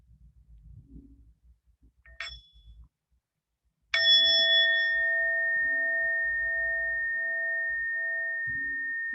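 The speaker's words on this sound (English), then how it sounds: "And we'll start with one sound of the bell." A single meditation bell is struck once and rings out clearly, its pure sustained tone decaying slowly over several seconds after a brief faint chime just before it.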